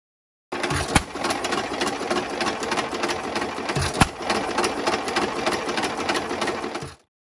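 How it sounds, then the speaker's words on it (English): A hit-and-miss engine drives an oil well pump jack, giving a dense, steady mechanical chatter with two louder knocks, close and continuous for about six seconds before stopping abruptly. "I wanted to run it with one of my hit-and-miss engines"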